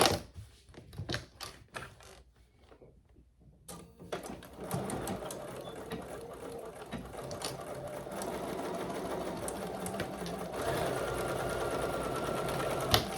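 After a few light clicks, a sewing machine starts up and hums continuously and close by, sewing a quarter-inch seam on a handmade holiday gift.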